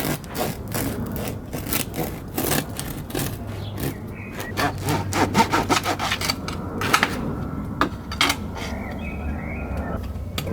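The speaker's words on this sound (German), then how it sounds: "dann schneiden wir mal noch ein Stück runter" A knife saws through a compact homemade rye-heavy loaf with a grainy crust, giving steady, close, rasping back-and-forth strokes that run continuously over a low background hum.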